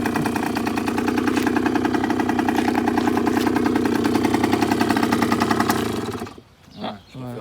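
A 50cc motorbike engine, pulled from the trash, idles steadily and can't be shut off, a buzzy, rapidly pulsing putter close by that suddenly cuts out near the end before a voice speaks.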